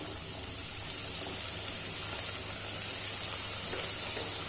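Tomatoes dropped into a pan of cooking onions, a steady broad sizzle and hiss close by without any pause or talk.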